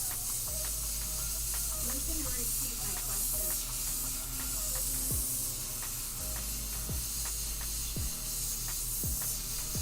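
An airbrush sprays paint onto a black shirt to paint skulls. It makes a steady, close hiss that runs the whole time, with occasional soft low thumps underneath.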